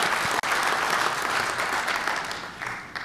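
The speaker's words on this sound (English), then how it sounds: "Round of applause." Audience applause at a public policy meeting, broad and steady for about three seconds, then thinning out toward the end.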